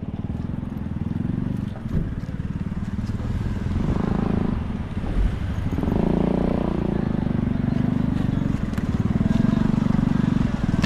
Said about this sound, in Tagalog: Abante mo na, padaanin mo na ito motor.